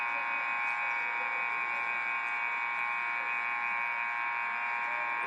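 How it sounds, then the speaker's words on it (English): A stuck electronic buzzer at a basketball game drones on continuously at a loud, unbroken level, holding one steady tone throughout with no pauses. "I think the buzzer is stick."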